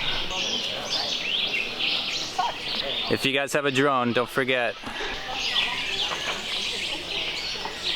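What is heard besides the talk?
birds singing in trees at Mayan pyramid site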